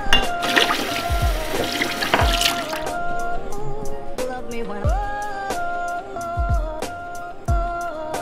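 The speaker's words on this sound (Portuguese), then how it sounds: "Vamos pegar um copinho d'água." Water poured into a small cup, heard as a close splashing trickle with bright dripping and gurgling tones, followed by a series of rhythmic short clicks or taps over a steady background.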